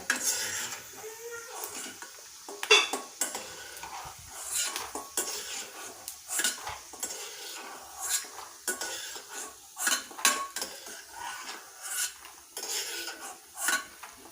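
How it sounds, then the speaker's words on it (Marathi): Peanuts roasting in hot oil in a pan, stirred with a metal spoon: repeated scraping and clinking strokes over a soft sizzle, close and fairly quiet, with no talk. "पहिल्यांदा आपण शेंगदाणे भाजून घेऊया शेंगदाणे भाजले जातात काढून घ्यायचे खरपूस भाजून घ्यायचे शेंगदाणे"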